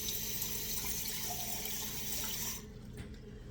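Cold water gushes steadily from a tap into a container, a loud, even hiss that cuts off abruptly near the end, leaving a quieter trickle.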